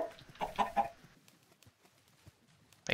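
Chickens cluck in a short burst, then a few scattered clucks and faint noises follow in a Minecraft chicken coop, with no speech.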